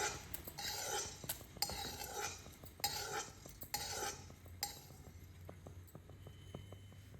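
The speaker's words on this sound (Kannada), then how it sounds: "ಜೀರಿಗೆ ಅಷ್ಟೇ ಬಿಸಿ ಮಾಡ್ಕೊತೀನಿ." Cumin seeds roasting in a pan give light, irregular clinks and scrapes of stirring, close and fairly quiet over a low hum, with no talking.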